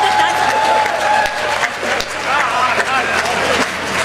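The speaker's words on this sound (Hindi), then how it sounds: "एक बार जोरदार तालियां बजाएं आप लोग।" Crowd applause at an outdoor Hindi poetry recital, a steady loud clatter of many hands mixed with cheers and voices, continuing throughout.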